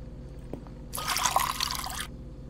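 Water pours into a coffee cup in the horror game Fears to Fathom 5: Woodburry Getaway, a steady trickling splash lasting about a second, loud and close, with no voices.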